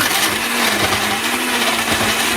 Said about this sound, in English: I have options on my blender, so I'm going to put it on icy drink